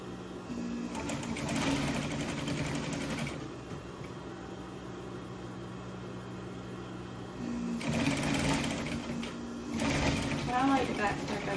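A sewing machine stitches Christmas stockings in close bursts, running steadily, pausing briefly mid-way, then starting again, with a person talking over the whirring.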